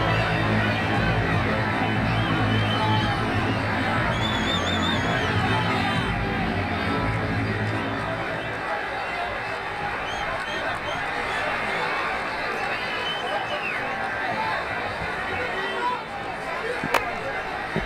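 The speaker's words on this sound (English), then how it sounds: "The crowd really enjoyed that one." Stadium crowd noise in Cricket 24 during an India vs Pakistan match: a loud, sustained roar of cheering and chatter that swells early, then settles into a steady murmur of babble.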